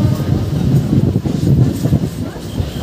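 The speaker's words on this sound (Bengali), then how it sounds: "ট্রেন কিন্তু আবারও তার ট্র্যাক চেঞ্জ করে ডবল লাইন থেকে আবারও সিঙ্গেল লাইনে চলে আসছে।" A passenger train on the Digha to Nandakumar line crosses from double to single track, with a loud, close, rolling rumble and uneven rhythmic knocks from the wheels.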